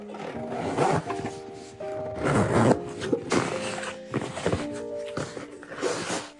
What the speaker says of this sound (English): Open the zipper and flip the whole pouch right side out.